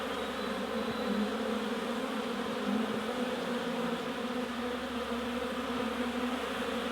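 Honeybees buzz in a dense, steady swarm around spring hives on orientation and cleansing flights, a continuous droning hum close by with no talk over it.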